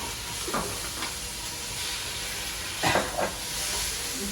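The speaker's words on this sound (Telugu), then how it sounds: "అల్లం వెల్లుల్లి పచ్చి వాసన పోయేంత వరకు వేయించుకుందాం" Ginger garlic paste fries in a pan with a constant close sizzle, broken by a few sharp bursts of louder crackling as it is stirred.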